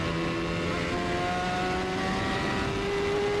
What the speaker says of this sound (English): Here, play with the throttle.